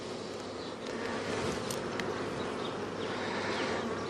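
Honey bees buzz steadily and densely around an open hive during a beekeeping inspection, a close, continuous drone with no talk over it.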